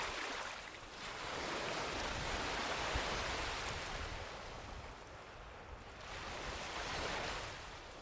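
Ocean waves roll onto a beach in a continuous hiss of surf, swelling and easing in slow surges, with some wind across the microphone.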